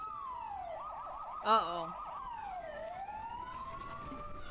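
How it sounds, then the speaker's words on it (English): Wailing sirens in a video game rise and fall at a distance while a voice speaks briefly over them, the sirens steady and fairly faint, approaching a motel. "I hear many sirens approaching the motel."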